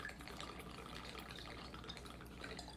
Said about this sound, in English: And then next you're going to add your Jameson.